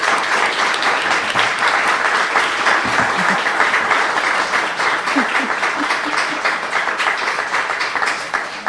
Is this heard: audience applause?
yes